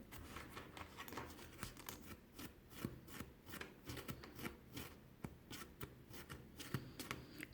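A comb pulled repeatedly through the cord fringe of a macrame keychain, giving quiet rhythmic scratchy strokes close up with no talk.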